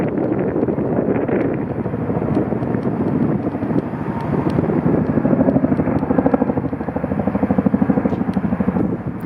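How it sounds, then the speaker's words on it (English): A random orbit sander runs loudly on wood while a farmhouse lift-top coffee table is being built, giving a close, continuous whirring drone with a rapid pulsing flutter that strengthens toward the end. "The random orbit sander is known specifically for not leaving any marks on your project."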